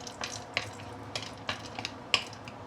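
Raw sugar being stirred in a pan as it begins to caramelize for braised pork belly: faint scraping taps and light clicks of the utensil at irregular intervals, quiet and close, with no talking.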